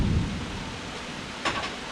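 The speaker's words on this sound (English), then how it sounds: "You guys hear the thunder coming through the camera?" Thunder from a storm heard outdoors near a fab shop rolls as a low, distant rumble under steady rain-like hiss, with a brief brighter crackle late on; no one speaks.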